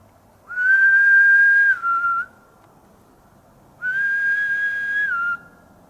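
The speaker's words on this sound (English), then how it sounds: "What was that? A whistle? That's a whistle." Two sustained whistled notes in a quiet UK forest, each a steady pitch that dips briefly at the end, separated by a short pause.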